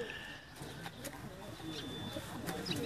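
Pigeons coo softly on a rooftop in Sialkot, faint and low amid background noise, with a voice talking over them.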